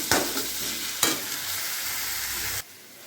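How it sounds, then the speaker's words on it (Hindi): Macaroni pasta cooks in a kadhai with onion, green chilli, tomato and salt, producing a close, steady sizzling bubble punctuated by two sharp stirring scrapes before the sound drops away abruptly near the end. "खड़बड़ तो हो रहा है कढ़ाई।"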